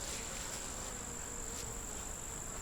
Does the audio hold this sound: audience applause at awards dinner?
no